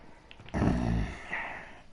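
Puppies growling: a single low, rumbling dog growl rises after a short pause and trails off over about a second and a half, close and fairly clear.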